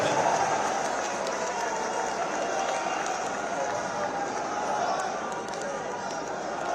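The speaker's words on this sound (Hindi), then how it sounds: "तालियों की करतल ध्वनि के साथ अपने स्थान पर हम सब खड़े हो आपका अभिनंदन करते हैं" An audience at a farmers' festival closing ceremony in Jaipur applauds steadily as Ashok Gehlot is welcomed, a dense, continuous wash of clapping from a large crowd in a hall, holding an even level throughout.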